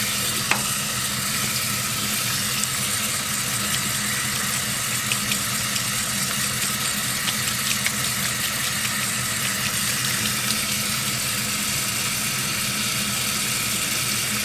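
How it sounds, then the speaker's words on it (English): Water runs from a tap while soap is rinsed from makeup brushes, a steady, dense hiss that stays close and even throughout, with a low background hum and no talking. "I'm just rinsing off the soap,"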